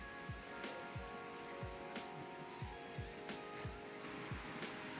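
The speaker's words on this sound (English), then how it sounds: "it's like a little creek" Gentle water runs steadily with soft, rhythmic gurgles repeating every half second or so, calm and fairly close.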